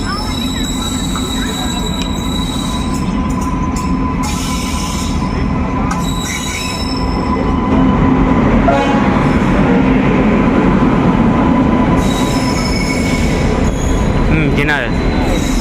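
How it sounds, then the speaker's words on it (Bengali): Teesta Torsa Express 13142 pulling into platform 5, with loud continuous wheel squeal and rumble, high screeching tones that come and go, and a crowded station din with voices underneath. "5 নম্বর প্ল্যাটফর্মে তিস্তা তোরসা ঢুকছে।"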